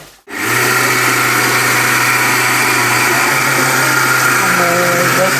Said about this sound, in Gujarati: મિક્સરમાં જાણા નાના કરી રહ્યા છે